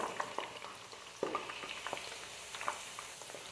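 Peeled, soaked potato slices fry in oil, one piece at a time, with a quiet, steady sizzle and scattered soft pops and crackles throughout.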